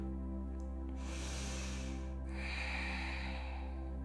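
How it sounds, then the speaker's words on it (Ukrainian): A yoga instructor takes a long, audible breath through the nose during a slow evening moon-salutation session, two soft airy inhalations close to the microphone over a low steady background hum. "Вдих."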